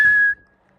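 A person whistles to call a dog back, one sustained high, clear note lasting about a third of a second before cutting off into quiet.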